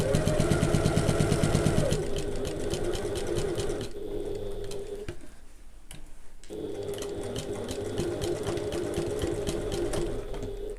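A sewing machine stitches a handbag lining panel in a steady rapid mechanical whir, pausing briefly around the middle before running again at close range.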